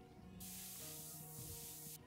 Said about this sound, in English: Quick! The bug spray!